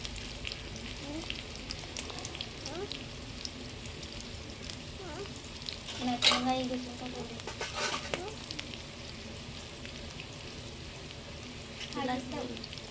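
Village chicken frying in a pan for a traditional Gavran chicken fry, a soft steady sizzle with occasional stirring scrapes and clinks, faint and close throughout.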